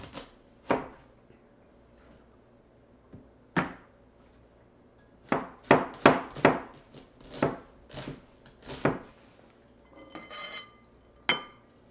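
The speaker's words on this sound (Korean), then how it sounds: "양파는 최대한 잘게 썰어줍니다." A knife finely chopping onion on a board for a vegan poke bowl, sharp chopping strikes coming in irregular bursts, close and clear, with quiet pauses in between.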